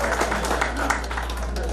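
Steady applause from the audience fills a mushaira, an Urdu poetry gathering, as a poet is welcomed: dense, even clapping at moderate volume throughout with no break.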